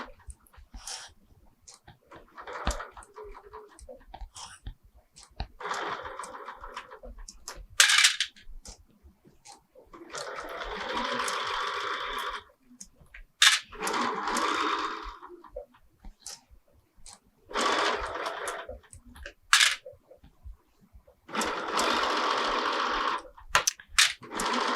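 A sewing machine stitches a pillow with piping in several separate runs, a buzzing, rapid mechanical whir that starts and stops, with quiet gaps between bursts.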